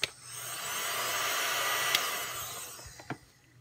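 A heat gun blows a steady, hair-dryer-like whoosh of hot air onto a 3D-printed ABS plastic part, running for about three seconds between faint clicks and knocks.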